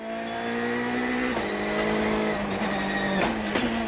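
A WRC rally car at Rallye Deutschland 2011 accelerates hard toward the stage finish. Its engine note is loud and continuous, rising and dropping through gear changes, with a brief squeal near the end.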